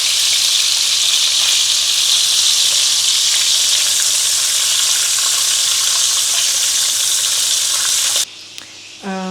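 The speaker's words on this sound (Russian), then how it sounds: "Вот так жарим еще 5 минут." Duck breasts frying in a pan with their rendered fat, a loud, dense, continuous sizzle held steady close up, changing abruptly near the end as the pan is disturbed.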